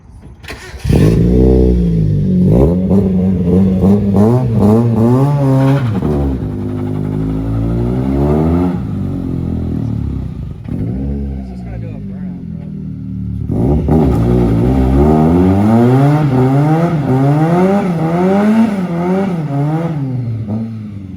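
A Mazda Miata's engine revs hard in repeated rising and falling surges while straining to pull something, loud and close, with a brief lull midway before climbing again.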